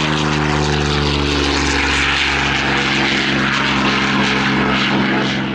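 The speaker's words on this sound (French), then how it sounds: "Au décollage, une autre des légendes, le B-40. Warhawk." A Curtiss P-40 Warhawk warbird propeller plane taking off at an air show, loud and near, its piston engine giving a steady droning roar with strong harmonic buzz throughout, no talking over it.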